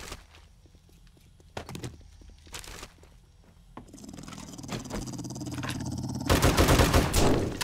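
Gunfire and action sounds in the survival video game 7 Days to Die, sparse sharp shots and thumps at first, building into louder, denser firing and commotion toward the end.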